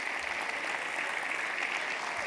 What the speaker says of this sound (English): we'll clap until we get 8 people to stand up